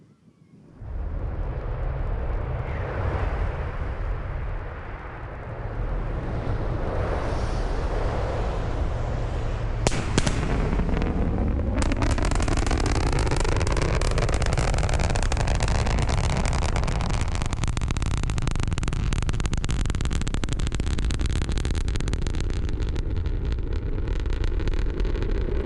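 A SpaceX Starship rocket launch near Boca Chica sends a deep, continuous thunder-like rumble that builds and holds loud and steady, with a crackling roar and a distant, sweeping tone as it climbs.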